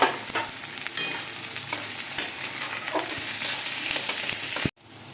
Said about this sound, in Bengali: এবার ভালো করে আমরা নাড়িয়ে দেবো পেঁয়াজ কুচিটাকে।